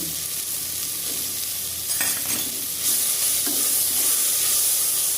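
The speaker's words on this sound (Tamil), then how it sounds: "இஞ்சி பூண்டு பேஸ்ட்டு" Ginger garlic paste frying in a pan, a continuous loud sizzle with scraping stirs of the spoon, close and alone without talk.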